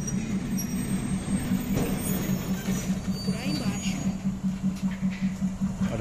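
Old COSIPA locomotive no. 23 maneuvers while hauling heavy steel plates, a steady, loud low engine drone with rhythmic pulsing and faint metallic squeals, as people talk over it.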